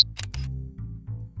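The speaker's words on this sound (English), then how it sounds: "Another click of the shutter." A camera shutter snaps in a few quick, sharp clicks at the start, close and crisp, followed by low, quiet tones.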